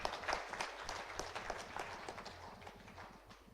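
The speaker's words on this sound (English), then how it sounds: "Let us clap for our chief guest, Mo." An audience at a higher education conference claps for the chief guest, a short burst of lively applause that tapers off gradually over a few seconds.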